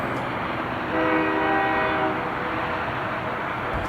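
BNSF 8532, a freight locomotive leading a westbound intermodal stack train, sounds its K3LA horn in one long, loud, chorded blast over heavy rumbling engine and rail noise.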